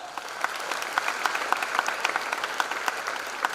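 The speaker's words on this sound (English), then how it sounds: "You can give a big applause for that." A large audience at a freshers' induction program applauds a guest of honor with sustained, dense clapping throughout.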